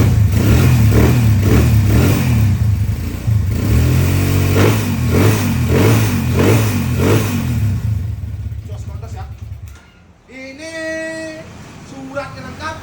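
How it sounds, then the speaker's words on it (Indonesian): Mega Pro Full Tiger 200 cc motorcycle engine revving in steady repeated pulses, loud and close, before the sound drops away near the end into other noises. "Ini mesinnya MP Mega Pro ya, Mega Pro Full Tiger 200 cc."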